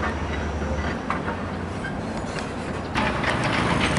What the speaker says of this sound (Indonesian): EMU bergerak lagi ke arah barat menuju ke Padalarang atau ke Halim.